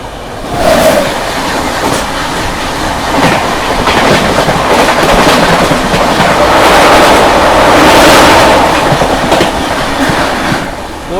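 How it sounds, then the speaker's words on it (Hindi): A Surat to Bandra Terminus intercity-type train passes close by, its loud continuous rumble and rhythmic clickety-clack of wheels over rail joints filling the whole stretch, swelling toward the end. "जो अभी ट्रेन क्रॉस हुई थी वो थी आप लोगों की सूरत से चलकर बांद्रा टर्मिनस की ओर जाने वाली"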